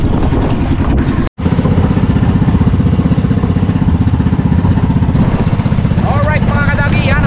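A fishing boat engine chugs loudly and steadily in a fast, even rhythm on a windy sea with the boat pounding, briefly cutting out for a moment before resuming.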